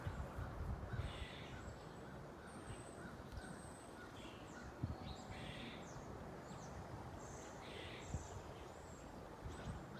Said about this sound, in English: I think we have some crows